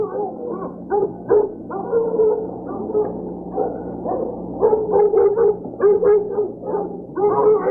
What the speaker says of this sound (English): The dogs are hot on the trail, chasing the deer in this direction.